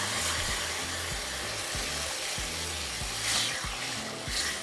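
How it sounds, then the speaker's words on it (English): Chicken broth, three cups of it, poured into hot red rice already mixed with tomato sauce in a frying pan, giving a steady close sizzle and hiss with no talking. "we're going to add 3 cups of our broth"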